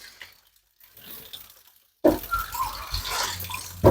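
Near silence, then a sudden burst of liquid pouring into a glass, a close, splashing gurgle that runs steadily to the end.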